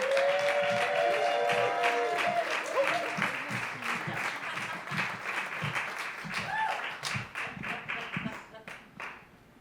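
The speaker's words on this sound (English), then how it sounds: "give a huge round of applause for Brandee Stilwell" Audience applause greets a storyteller at a live storytelling show, a dense wash of clapping from a crowd that swells at the start and slowly thins toward the end, with a few voices and whoops mixed in.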